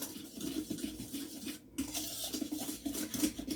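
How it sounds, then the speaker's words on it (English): Dry ingredients for Chinese chicken fingers being stirred in a bowl, a quiet steady scraping and pattering with no voices. "we're going to take all those dry ingredients and we're going to mix them"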